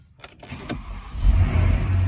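A Porsche Panamera 970 starts up: a few faint clicks, then the starter cranks and the engine catches, settling into a low, steady idle rumble that builds up close by, with no talk.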